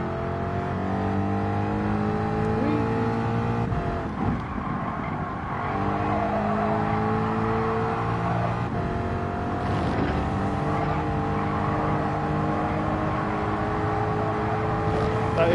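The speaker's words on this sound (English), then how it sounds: "Drifting boys" Race car engine in Gran Turismo 7 held at steady high revs while drifting, with a continuous droning whine, brief shifts in pitch and faint tire noise throughout.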